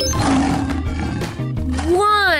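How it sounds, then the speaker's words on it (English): A lion roars loudly over lively background music, a deep rumbling growl with a rising voiced cry near the end, set in a children's counting chart for preschoolers. "1. Lion."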